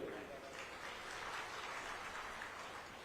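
An audience at a political rally applauds in a steady, dense wash of clapping that holds evenly throughout, with the crowd's noise filling the space.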